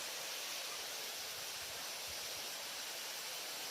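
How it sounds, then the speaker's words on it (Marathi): Water at Morzot waterfall splashes and rushes, a faint, steady hiss with no clear breaks and no talk. "माझ्या अंगावर पाणी उडतंय ना."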